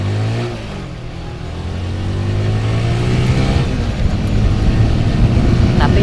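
A motorbike or small road vehicle in Indonesia is pushed to high RPM, its engine note climbing steadily into a loud, strained drone that holds near and constant over road noise.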